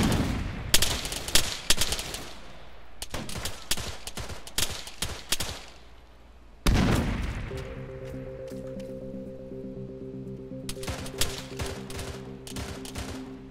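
Machine gun fire crackles in the ARMA 3 military shooter, arriving in rapid bursts separated by short pauses, with a steady low hum beneath the later volleys.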